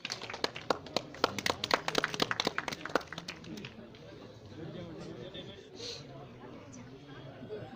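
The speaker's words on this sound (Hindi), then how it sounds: "जोरदार ताली से बहुत स्वागत कर दीजिए।" Audience applause at a welcome ceremony for a municipal election office opening, a few seconds of scattered, moderately close hand claps that fade out, leaving murmuring chatter and voices in the background.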